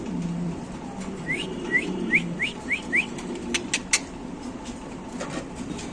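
Yellow Mundian pigeon squabs in a loft give a run of six short rising peeps, close and fairly loud over a low murmur of cooing, followed by a few sharp knocks, with no talking.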